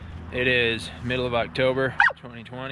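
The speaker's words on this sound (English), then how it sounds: "That was a dog just yelled at me for talking too much again" A dog barks and yips repeatedly at close range, its calls broken by a whimpering squeal while someone talks over it.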